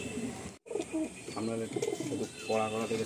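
Madrasi pigeons cooing close by in repeated soft throaty rolls, with chirps among them and a voice speaking between the calls.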